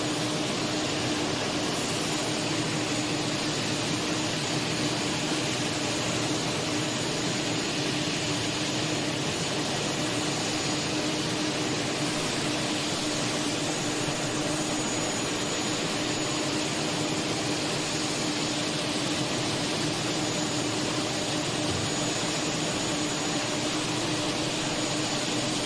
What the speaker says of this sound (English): They got 1 and possibly 2 of these turbines running.